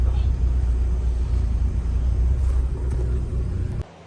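A car engine, being pushed for a high-speed test, drones and rumbles steadily up close for several seconds, low and heavy, before the sound cuts off abruptly near the end; speech is picked up faintly over the engine.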